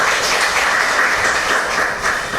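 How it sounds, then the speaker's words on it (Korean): Audience applause at a Korean National Assembly policy forum on financial reform, a dense, even wash of clapping from a seated crowd for a guest introduction, fairly loud and steady throughout with no speech over it. "박수 부탁드립니다."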